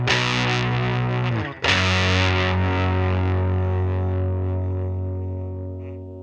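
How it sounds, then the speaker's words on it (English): Electric guitar through a silicon-diode boost pedal set for hard clipping, giving a sharp distorted tone: a sustained chord, a brief dip as it is re-struck, then a loud ringing chord slowly decaying. "Here's the silicon side, which has a sharp, hard clipping distortion."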